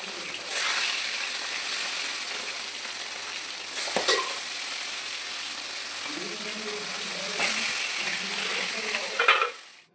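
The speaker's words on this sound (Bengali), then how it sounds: "মাছের তরকারির জন্য এবার মাছটা ভেজে নিচ্ছি।" Fish frying in a pan makes a steady, close sizzle throughout, broken by a few sharp clinks and scrapes of a utensil against the pan.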